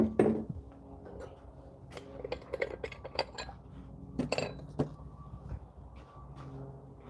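Glazed ceramic rice bowls clink and knock against one another and against kiln shelving as a glaze kiln is unloaded, giving scattered sharp ringing taps in irregular bursts, some close, over a low room hum.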